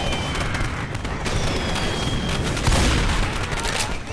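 Dense, continuous gunfire in the Left 4 Dead 2 co-op custom map Blood Tracks, rapid overlapping shots and booms filling the whole stretch, with voices shouting faintly underneath.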